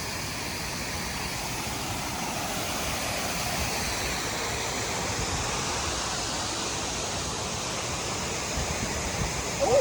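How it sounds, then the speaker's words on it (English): Water pours continuously down a small waterfall into a hole, a steady, close, broadband rush that stays even throughout with no talk. "Waterfall going down."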